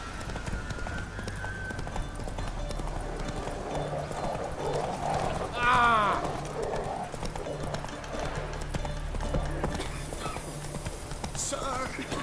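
Roach the horse gallops in The Witcher 3 video game, steady clip-clop hoofbeats running under game music and ambience, with a brief whinny-like swell midway.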